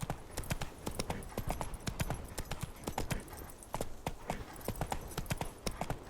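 Horse hooves clip-clop steadily in The Witcher 3, a brisk run of close hoofbeats with faint game voices and ambience behind.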